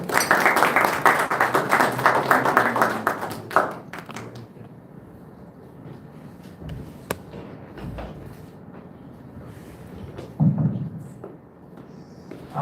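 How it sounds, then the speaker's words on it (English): Audience applause greets a speaker at a talk on marine conservation, loud clapping for about four seconds, then fading into quieter room sounds with a few scattered taps. "Let us welcome her with a round of applause."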